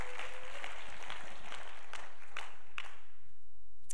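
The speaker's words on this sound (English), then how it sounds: "As one, we clap our hands, giving him praise as we're seated in his presence." A seated church congregation claps hands in praise, a dense, reverberant patter of many hands that swells in repeated bursts before thinning out, with a faint low hum beneath.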